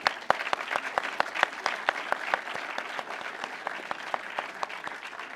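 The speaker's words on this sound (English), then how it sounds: "let's give them a round of applause." Audience applause at a panel session of the 2014 AVC Conference: steady, dense clapping from a seated crowd in a hall, even and sustained throughout without voices over it.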